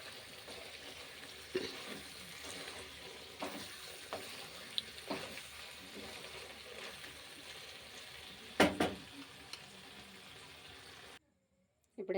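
Chicken fry sizzles steadily in a pan while being stirred, with occasional scraping clinks of the utensil, before the sound cuts out abruptly near the end.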